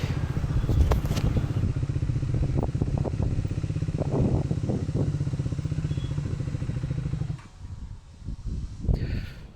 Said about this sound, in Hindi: चलो पहले वैसे बाइक को पार्क कर दूँ